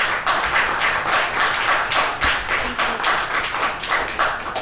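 Clapping and cheering from a crowd at a public school board meeting, a steady, fairly loud, continuous wash of hand claps.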